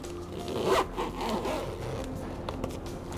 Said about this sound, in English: and you zip it up like that.